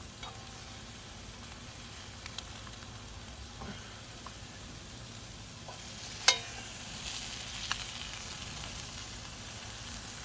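Pork fries in a pan at a camp cooking spot, with a low, soft sizzle running underneath and a few small clicks and clatters from the pan and utensils, and one sharp tap partway through.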